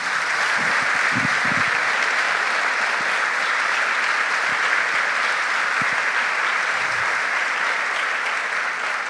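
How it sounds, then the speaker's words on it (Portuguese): Congregation at a Catholic Mass applauding steadily and loudly for about nine seconds, a dense sustained wash of clapping with no pauses. "Então dê uma forte salva de palmas a Jesus"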